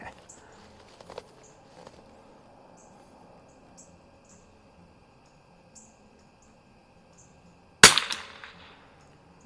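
A single sharp rifle shot from a Remington 513-T target rifle firing CCI standard velocity .22 rounds sounds close and loud after several seconds of quiet outdoor ambience, with a brief ringing tail.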